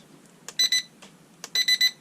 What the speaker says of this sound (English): There are the 3 beeps there. That's 3rd rate of speed.